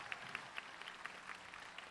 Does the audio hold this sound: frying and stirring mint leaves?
no